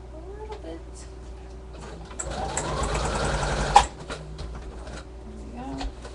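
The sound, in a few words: sewing machine sewing an embellishment down onto a scrapbook page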